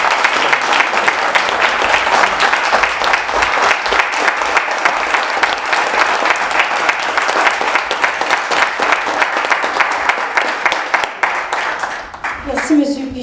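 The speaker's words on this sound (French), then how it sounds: "je pense que ça mérite une deuxième ronde d'applaudissements" Sustained, loud audience applause at a journalism prize ceremony, a steady dense patter of many hands clapping for about twelve seconds before tapering off at the end.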